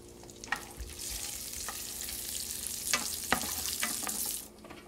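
Pine nuts toast and sizzle in a pan, with a steady frying hiss broken by scattered pops and stirring scrapes, close and fairly loud.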